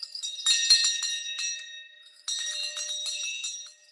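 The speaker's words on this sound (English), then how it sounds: "and so she's back, and she got a bell." A small handheld bell rings in two bursts, a shaken run of bright metallic strikes, then a pause, then a second run, close and clear, with no voices.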